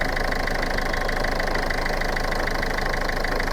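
A Ford Fiesta Classic car engine idles with a steady, even mechanical hum and a faint rhythmic knock, holding constant from start to finish with no voices.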